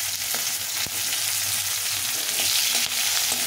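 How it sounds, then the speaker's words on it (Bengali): Chunky chopped onions fry with black cumin in a pan, a loud continuous close sizzle with faint stirring clicks throughout and no speech. "দিয়ে একটু পেঁয়াজটা একটু ভেজে নিতে হবে।"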